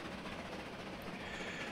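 A train rolls along the tracks in Transport Fever 2, giving a steady, even rushing rumble with no sharp clacks, fairly quiet and constant the whole way through.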